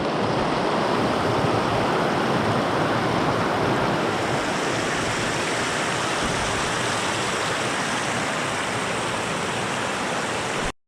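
A big trout river rushes past in a steady, loud, broadband wash of flowing water, constant throughout and heard up close with no voices.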